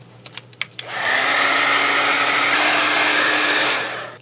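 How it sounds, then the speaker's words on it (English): A heat gun roars on steadily for about three seconds, drying glue on a junk journal page, after a few light taps and clicks, then cuts off near the end. "So I think I'll take my heat gun and just speed up the process."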